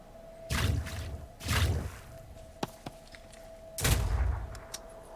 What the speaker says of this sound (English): That was an optimistic shotgun shot, if I've ever seen one.